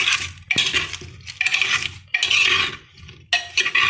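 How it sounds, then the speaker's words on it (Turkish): A spoon scrapes and sloshes through tomatoes and vegetables in a metal pot, in repeated stirring strokes with short pauses between them, close by. "Bunu güzelce bir karıştırıyorum."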